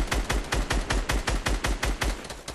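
Rapid automatic gunfire in Fortnite blasts out a steady burst of about a dozen loud, close shots in even rhythm, aimed at an incoming flying vehicle.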